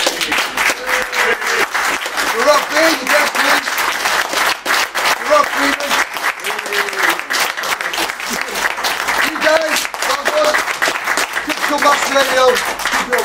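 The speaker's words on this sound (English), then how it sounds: "again, a round of applause" Sustained applause from a conference audience fills the room, steady and dense from start to finish, with voices speaking over the clapping.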